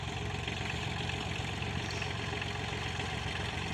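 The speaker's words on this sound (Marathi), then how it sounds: "हा सोनालिका 20चा ट्रॅक्टर आहे" A Sonalika 20 tractor idles on a farm field being furrowed for onion planting, a steady, rough mid-low engine drone that runs unbroken at moderate loudness.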